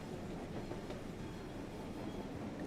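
Krokodil electric locomotive from Train Sim World running on the Mittenwaldbahn, giving a steady rumbling rail drone with rhythmic clickety-clack of wheels, continuous and moderately loud with no talk.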